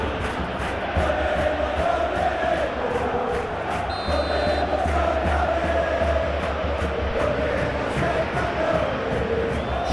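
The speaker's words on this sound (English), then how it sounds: "You can hear the annoyance in the crowd. The frustration is growing." Football stadium crowd in a simulated Champions League match between Atletico Madrid and Arsenal, a dense, continuous roar of annoyed fans with whistles and shouts rising and falling, loud and unbroken.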